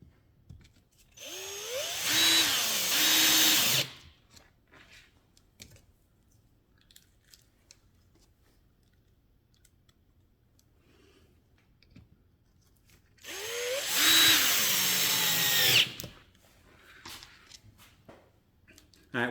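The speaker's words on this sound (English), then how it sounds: "And I'm just now screwing these components" Power drill driving screws into plywood while mounting components, with two separate loud bursts of whirring, each a couple of seconds long, separated by a long quiet stretch of faint handling noise.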